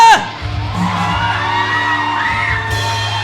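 A church congregation at a Sunday worship service shouts and cheers together in a sustained, loud crowd roar, with a high whoop at the start and a steady low hum underneath.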